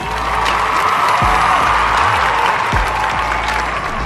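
A recorded applause sound effect of a crowd clapping steadily and loudly, dense and continuous with faint cheering mixed in.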